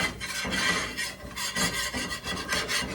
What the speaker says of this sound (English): So now I'm going to take my spatula and scrape up all them goodies.